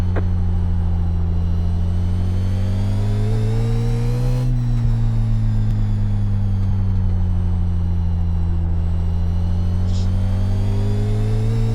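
Legends race car engine in the iRacing sim at Hickory, a loud, steady, close buzzing drone with a strong low hum and layered harmonics that dips and rises slightly in pitch as the car works around the track.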